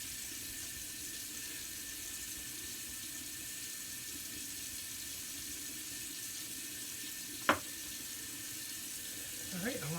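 A bathroom sink tap runs steadily with a broad hiss of flowing water while alum is rinsed off after a shave; a short sharp knock near the end, then faint splashing.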